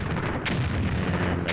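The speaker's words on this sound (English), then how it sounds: "Get our random explosions, 10 of them." Video game explosions in Disney Infinity 3.0 at Jabba's sail barge: loud, dense booming blasts that overlap one after another with no pause.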